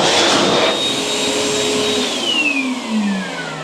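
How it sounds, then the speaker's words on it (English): Electric hand dryer running in a garage bathroom, a loud continuous blowing roar with a whining tone that shifts pitch downward partway through before easing off slightly at the end. "we've even got a hand dryer"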